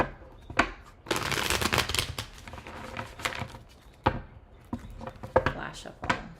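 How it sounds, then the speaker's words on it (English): Tarot cards being shuffled by hand, a long riffling burst followed by several shorter crisp shuffles and taps, close and clear, with a voice speaking between them. "2 more shuffles."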